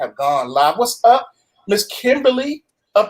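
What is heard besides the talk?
No everyday noise stands out behind the speech.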